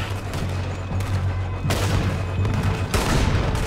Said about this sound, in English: Oh, it's a Gatling cannon.